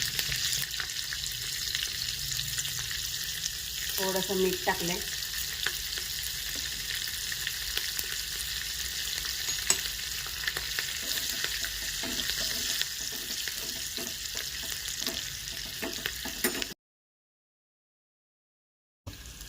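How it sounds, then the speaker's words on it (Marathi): Steady crackling and sizzling of mustard and cumin seeds with chopped green chilli popping in hot oil, continuous and close, with a brief spoken remark and a few stirring clinks. "जिरे टाकले की मग मोहरी चांगली तडतडू द्यायची"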